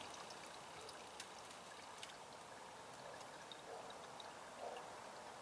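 Antifreeze, already diluted, poured into the radiator and cooling system of a 1995 Chevy Lumina, a faint, steady trickle and splash running continuously at low level.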